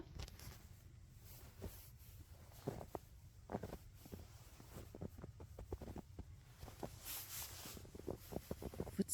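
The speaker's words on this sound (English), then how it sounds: "Footsteps in the snow." Footsteps crunching through snow on a Swiss mountain hike, a steady run of close, soft crunches with light wind noise behind them, no talking.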